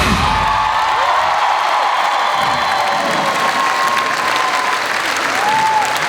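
A large audience at a benefit concert claps loudly and continuously, a dense, sustained wave of applause close by with no pauses, faint voices blending into the crowd noise.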